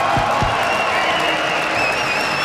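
Esports arena crowd at a League of Legends match, a steady roar of cheering and applause filling the space with dense broadband noise and a couple of low thumps near the start.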